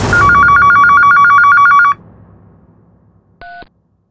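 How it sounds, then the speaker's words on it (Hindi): A telephone bell rings loudly in a steady electronic trill for about two seconds, then stops; a short, fainter electronic beep follows a moment later. "अचानक फोन बजा।"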